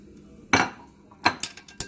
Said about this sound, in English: I'm going to take the bacon out of the pan and put it into a bowl